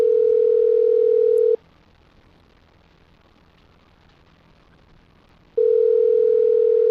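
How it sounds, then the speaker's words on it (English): A steady telephone dial tone hums, cuts out for about four seconds of near silence, then resumes at the same level. "listening to the dial tone"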